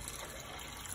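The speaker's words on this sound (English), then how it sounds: "Yeah, it all came out in a gush." Coolant gushes out of the bottom hose of a Morris Minor engine in a continuous, loud, steady rush of liquid, with no talk over it.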